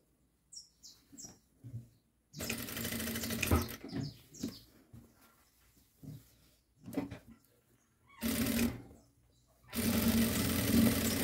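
A sewing machine stitches a child's high-waisted elastic shorts in three loud, close bursts of fast whirring, separated by quiet stretches of small handling noises and fabric rustles.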